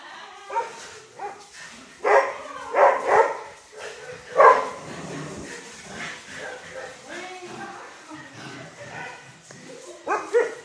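Excited dogs barking inside a big indoor room at a dog shelter, several sharp barks and yips in short bursts with some whimpering between, echoing in the space while a person talks.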